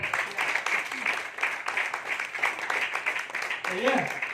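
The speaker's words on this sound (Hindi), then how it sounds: "जबरदस्त शानदार ताली।" An audience at a business-plan presentation claps in a lively burst, dense applause running throughout, with a voice briefly rising over it near the end.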